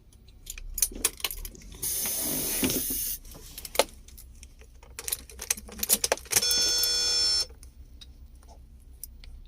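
A car ignition key is turned while the vehicle fails to start, with a drive position relay fault suspected. Keys jingle and click, a broad hissing burst follows, then a steady electronic warning chime sounds, close and without talk.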